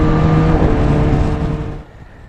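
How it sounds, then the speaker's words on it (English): A small Honda XR125 dirt bike fitted with a 14-tooth sprocket, its engine droning loud and close while riding, then dropping away sharply near the end. "I'm just going to ride around and get a feel for the bike, a little XR125 with a 14-tooth sprocket"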